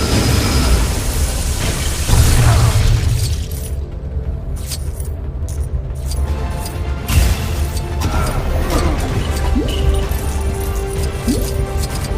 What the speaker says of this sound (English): Another fiery explosion with more of Zod's men trying to hunt me down.